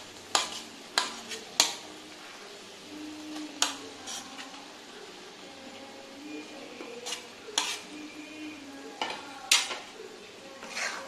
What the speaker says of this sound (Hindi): अब मैं इसमें आलू और बैंगन दोनों को ऐड करूँगी।